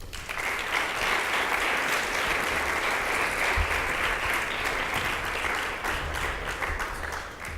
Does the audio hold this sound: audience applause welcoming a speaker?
yes